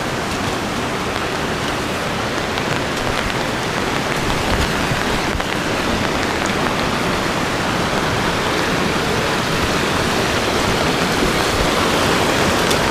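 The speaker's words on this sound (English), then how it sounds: "Water coming on both sides of you down here." Water rushes down on both sides of a path in a woodland rock garden, a loud, steady, unbroken splashing wash heard alone, without talk.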